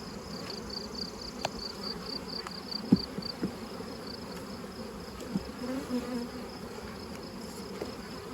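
Honeybees buzz steadily around an opened hive, making a close, continuous insect drone with a few louder passes by single bees.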